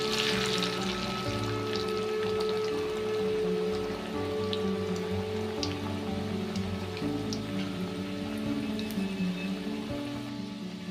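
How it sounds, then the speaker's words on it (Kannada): Crumb-coated veg corn bread rolls fry in hot oil over a medium flame, a steady crackling bubble with fine popping, close and continuous, without talk. "ಕ್ರಮ್ಸ್ ಒಳಗೆ ರೋಲ್ ಮಾಡಿಕೊಂಡು ಈಗ ಎಣ್ಣೆ ಒಳಗೆ ಹಾಕ್ಕೊಳಕತ್ತೀನಿ"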